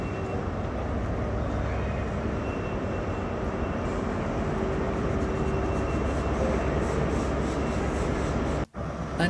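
A ScotRail HST with Class 43 power cars and Mark III coaches idling at a station, a steady loud diesel drone with a brief dropout near the end, no talk.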